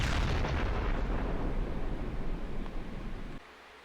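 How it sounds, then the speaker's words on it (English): A grenade launcher in the video game Flaws Glass fires a grenade, heard as a loud, booming burst that rolls into a broad rumble before cutting off sharply near the end, with no voices. "you can actually switch to a different weapon, push G, and it'll quick fire a grenade"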